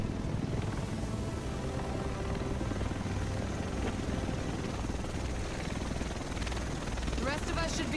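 A helicopter arriving in the game Tom Clancy's The Division, a steady loud rotor and engine drone filling the scene, with voices talking over it.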